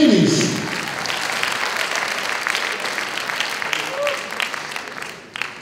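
A concert audience breaks into sustained applause for a singer at a televised Hollywood-themed music festival in Los Angeles, a dense steady clapping that stays loud throughout and tapers slightly near the end.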